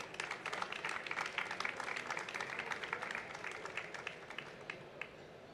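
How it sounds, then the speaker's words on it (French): Applause for award winners at a cycling and walking awards ceremony, a steady round of clapping from a modest audience, fairly distant and fading slightly toward the end. "on peut les applaudir"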